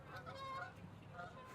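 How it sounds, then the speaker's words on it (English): Canada geese honking near Argyle Lake, a couple of nasal honks at moderate distance over steady outdoor background noise. "here comes some Canada geese"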